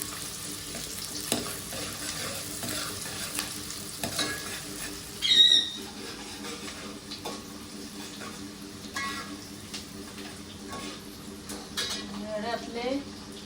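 Onion frying in a Malvani-style tempering in a home kitchen, a soft sizzle under scattered clinks and scrapes of a spoon stirring in the pan, with a brief sharper squeak midway; quiet and close.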